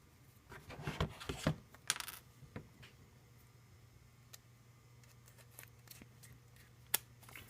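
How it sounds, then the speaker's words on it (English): Small, faint plastic and metal clicks and taps come from a Verizon 4G LTE SIM card tray being handled and the card pushed into an iPad Air, clustered at first and then thinning out into scattered ticks. "So I'm going to go ahead and first try out the Verizon 4G LTE"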